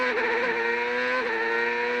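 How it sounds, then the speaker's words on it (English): A CART race car engine revs during the 2002 Vancouver round, holding a loud, steady, high-pitched whine with a brief dip in pitch partway through, close and without voices. "you heard the engine rev, even with the traction control"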